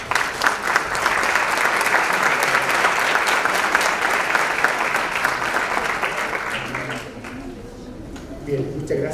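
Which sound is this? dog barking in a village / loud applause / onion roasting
loud applause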